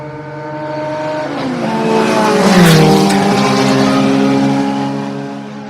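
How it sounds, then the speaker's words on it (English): A Formula One race car passes at speed on a wet track, engine whine rising as it approaches, peaking loudly with a sharp pitch drop as it goes by, then fading away with no talk. "This is the sound of a proper Formula One car."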